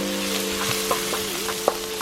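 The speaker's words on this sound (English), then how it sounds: "Let the shallots be caramelized for the time being until we put the ginger." Shallots caramelizing in a pan for spicy chilli crab, frying with a steady close sizzle while being stirred, with a few soft scraping touches and a faint tonal hum underneath.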